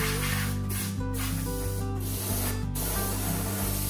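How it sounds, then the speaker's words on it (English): Compressed air blasts sawdust from the internals of an old Powermatic PM66 table saw in a loud, continuous close-up hiss, broken by a few short pauses as the nozzle is repositioned. "I like to use compressed air to blow all that sawdust off of the internals."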